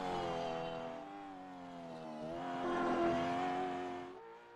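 A race car engine in a sim racing game at Bathurst revs loudly through shifting harmonic tones. It swells toward a peak as the car gets on the power, then drops away near the end.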